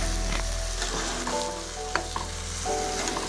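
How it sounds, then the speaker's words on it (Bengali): Fish roe curry masala sizzling in a hot pan, a steady loud frying hiss with a few sharp crackles and stirring scrapes, close up; no one speaks. "এবার কিন্তু এর মধ্যে দিয়ে দেব পরিমাণ মতো জল"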